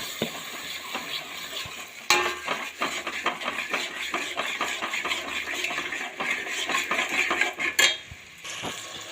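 Pav bhaji vegetables with tomatoes and peas being stirred in a pan, a busy run of close metal scrapes and clinks from a spoon over a light sizzle, with a louder knock partway through.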